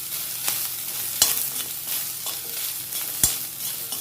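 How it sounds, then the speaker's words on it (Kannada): Cumin and coriander seeds fry in ghee for green masala ghee rice, a steady close sizzle with a few sharp spoon scrapes and knocks as the mixture is stirred. "ಜೀರಿಗೆ ಹಾಕಿದ ಮೇಲೆ ಒಂದು 2 ಸ್ಪೂನ್ ಆಗುವಷ್ಟು ಕೊತ್ತಂಬರಿ ಹಾಕಿ ಒಟ್ಟಿಗೆ ಹೀಗೆ ಒಳ್ಳೆ ಮಿಕ್ಸ್ ಮಾಡಿಕೊಳ್ಳಿ"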